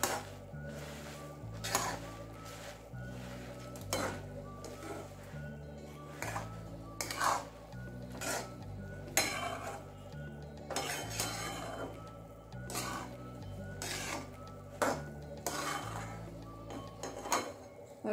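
A sweet puffed-rice (murmura) mixture is stirred in a pan with the gas turned off, a spoon clinking and scraping against the metal in an irregular rhythm beneath steady background music.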